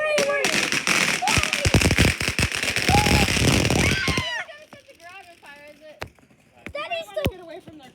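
Two packs of consumer fireworks go off nearby in a loud, dense barrage of rapid cracks and bangs for about four seconds, then thin out to a few scattered pops while excited voices talk and shout.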